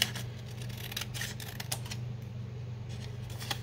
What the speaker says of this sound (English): I'm going to trim this edge here.